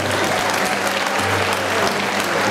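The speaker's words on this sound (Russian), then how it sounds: "Аплодисменты, уважаемые зрители!" Steady applause from an audience at a ballroom dance competition in Moscow, a dense continuous clatter of clapping that holds evenly for a few seconds with no voices on top.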